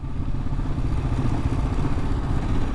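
A Kawasaki KLR650 motorcycle rides through a lake, its engine putting out a loud, continuous low rumble mixed with splashing clatter and thumps throughout.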